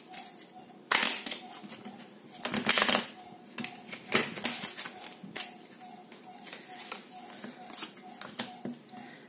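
Tarot cards being handled and spread out on a surface, with soft irregular taps, slides and shuffling rustles, a few sharper slaps near the start, close and fairly quiet over a faint steady hum.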